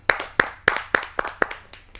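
At a kavi sammelan poetry gathering, a few people clap together in slow, evenly spaced bursts, about seven sharp claps across two seconds, close and distinct with no voices over them.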